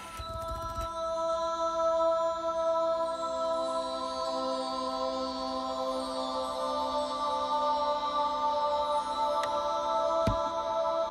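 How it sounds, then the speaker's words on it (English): A Celestial Voices synth pad in GarageBand, a choir blended with bell tones, holds sustained layered chords alone throughout, steady and moderately soft with a faint bell shimmer. "It's like a choir mixed with bells, and I think it sounds very dreamlike"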